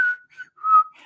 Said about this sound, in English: And then they heard some whistling